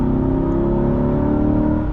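A 2023 Chevrolet Corvette Stingray 3LT with the Z51 package has its mid-mounted engine accelerating, a loud, deep, rumbling exhaust note that rises steadily as heard from inside the car, with no talking.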